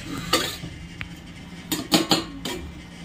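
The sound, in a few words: covering the fish curry cooking pot with a lid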